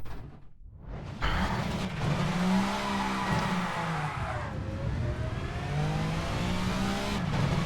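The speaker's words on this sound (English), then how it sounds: "Let me just nurse the car around the track, because I certainly can't push it." A VRC Super Touring car in Assetto Corsa drones steadily at moderate volume, the engine note rising and falling through gear changes and corners, with faint tire squeal.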